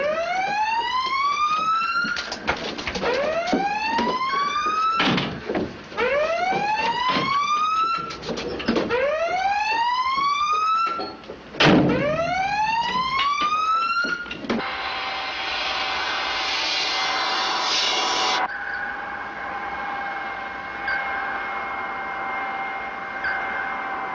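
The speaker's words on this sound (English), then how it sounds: "Sound collision alarm." A submarine's collision alarm blares in a 1958 war film: a loud, close, repeated rising whooping tone cycles about six times, then gives way to a steadier harsh electronic blare that cuts off near the end.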